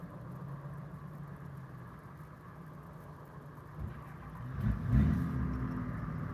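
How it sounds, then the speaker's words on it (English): Small trucks cranking up and revving, a quiet idling engine rumble that builds into louder bursts of acceleration near the end, heard at a moderate distance with no talk. "Now they cranking up their little trucks."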